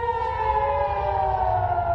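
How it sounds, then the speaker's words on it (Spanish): Air raid sirens warn of an incoming missile attack on an Israeli kibbutz near Gaza early in the morning, sounding a steady, loud wailing tone that drifts slowly downward in pitch, with no voices. "Alrededor de las 6 de la mañana del 7 de octubre comenzaron a sonar las sirenas ante el ataque con misiles que llegaba de Gaza"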